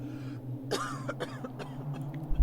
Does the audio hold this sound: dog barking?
no